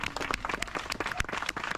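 A parkrun crowd claps for the volunteers at the start of a 5K course, with quick, scattered handclaps at moderate distance for nearly two seconds.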